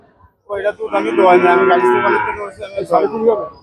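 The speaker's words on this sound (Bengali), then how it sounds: "দর্শক একটি দেশি গাভী দেখতে পাচ্ছি আমরা" A local Bengali cow at a rural cattle market in Bagerhat moos loudly and close by in one long drawn-out call, followed by a shorter second bellow.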